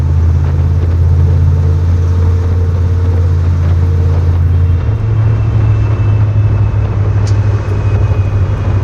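A pickup truck with a loud aftermarket exhaust drives along, its deep engine drone steady and close, then the note drops as the throttle lifts and it coasts with a lower, rumbling hum.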